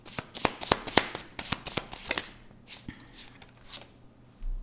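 A deck of tarot cards is shuffled and cut, giving a quick series of crisp riffling snaps and slaps for about two seconds, then softer, sparser card taps close by with no talking.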